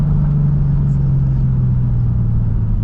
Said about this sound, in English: it's a pretty loud exhaust